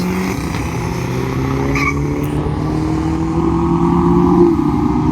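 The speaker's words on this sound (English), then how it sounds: "Gosh, he spun the tires." Jet car at a drag race spinning its tires, heard as a loud, steady roar with squealing tire scrub that holds for several seconds, with no talking.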